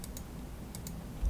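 A handful of computer keyboard key presses while wiring a circuit in LTSpice software, two pairs of crisp, light taps separated by a short pause, close and quiet over faint room hum.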